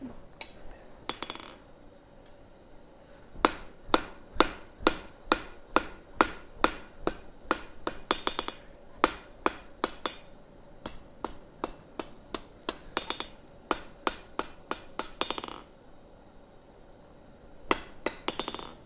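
A blacksmith hammers hot metal on an anvil while forging a sled, sharp ringing strikes in fast rhythmic runs separated by brief pauses, heard clearly and fairly close.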